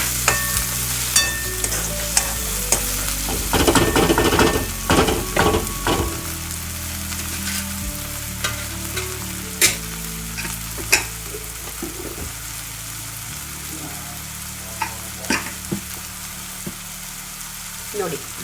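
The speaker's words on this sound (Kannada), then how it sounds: "ಇದು ಟೊಮೆಟೊ ಸರಿಯಾಗಿ ಫ್ರೈ ಆಗಬೇಕು" Tomato fries in a pan for ragi shavige upma. The sizzle is steady and hissing, broken by repeated clanks and scrapes of a spoon stirring against the metal, which are heavier near the start and then grow sparser.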